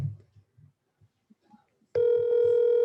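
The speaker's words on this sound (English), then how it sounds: "I'm gonna call my hitter, and let's see if he answers" An outgoing phone call rings out over a speaker after a few soft clicks and faint sounds, the steady ringback tone starting abruptly partway through and continuing loud and unbroken to the end.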